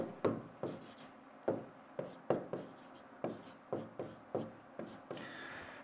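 A pen writes on paper or a board during a reasoning lesson, heard as a series of close, quiet scratchy strokes in short bursts with a steady rhythm. No voice speaks over it.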